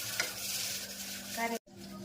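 Gram flour roasting in oil for a bitter gourd curry, a close steady sizzle and frying hiss with stirring scrapes, briefly cutting out near the end before the sizzle resumes.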